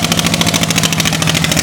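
A trawler boat loaded with cows heads toward Baligaon market in Bangladesh, its engine chugging in a loud, steady rapid pulse, close and alone.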